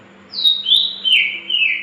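A white-rumped shama (murai batu) sings a string of clear, high, sliding whistled phrases, four or five in quick succession, close and alone against a faint steady hum.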